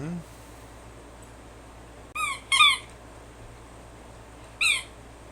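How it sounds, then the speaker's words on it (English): A seagull gives three sharp, squawking calls with rising then falling pitch, the first two close together and a third a couple of seconds later, standing out clearly over a quiet background. "Does sound like a seagull."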